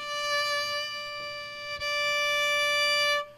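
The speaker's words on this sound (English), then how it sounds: "you can play a note straight with no vibrato," A single sustained fiddle note held perfectly steady with no vibrato, bright and even with rich overtones, ringing alone for about three seconds before stopping abruptly.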